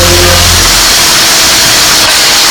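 A cartoon race car engine revs hard, a loud, dense roar that starts with a low throbbing idle and surges into a constant high-pitched acceleration, alone without talk.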